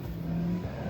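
A car engine revs and strains while stuck on a snow-covered road in Manali, a steady low drone with a sustained note, fairly close and alone.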